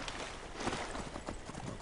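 Hooves of a fast armored horse in Skyrim clip-clop quietly at a quick, steady gallop, the beats soft and muffled within a low background wash.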